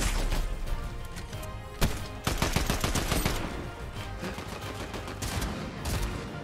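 Rapid video game gunfire during a tournament match, with sharp sniper-like cracks and bursts of automatic shots rattling loudly over several seconds, one especially hard crack standing out near the start.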